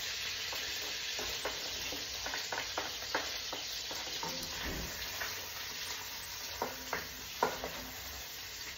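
Garlic and onion sizzling in a hot pan for ginataang kalabasa with shrimp, a steady quiet frying hiss broken by scattered clicks and scrapes of stirring, with one sharper knock near the end.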